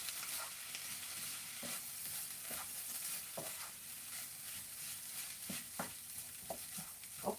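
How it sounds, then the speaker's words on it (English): Steady hissing sizzle of rice frying in hot oil in a wok, with occasional scraping and clinking of a utensil stirring. "This is the sound that you want to hear, sizzling."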